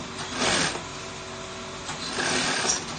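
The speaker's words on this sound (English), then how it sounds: "Then you now sew as shown" A sewing machine runs steadily while stitching a garment placket near its tip, a continuous mechanical whir with slight swells in intensity, close and moderately loud, with no talking.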